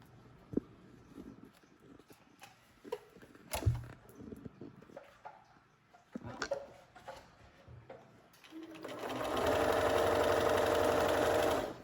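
A sewing machine stitches ribbon onto a hooded towel, starting after scattered handling clicks and taps and then running in a steady, loud whirring burst for several seconds.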